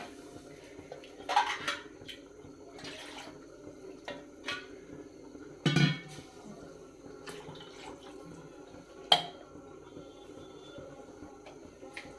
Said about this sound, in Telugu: ఇప్పుడు నాలుగున్నర నాలుగున్నర వాటర్ పోసుకోవాలి